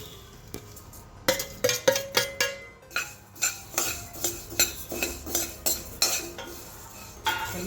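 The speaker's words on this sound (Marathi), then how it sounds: "हे धने शोपा जिरेसुद्धा या मसाल्यांमध्ये भाजून घेऊया" A metal spoon scrapes and clinks in a pan while coriander seeds, fennel and cumin are dry-roasted with other whole spices, a quick series of sharp, close knocks and taps with short pauses between them.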